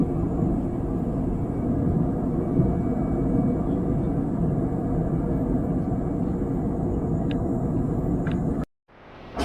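Steady loud airplane engine and cabin roar during a bumpy, turbulent flight through clouds, a dense continuous rumble that cuts off abruptly near the end.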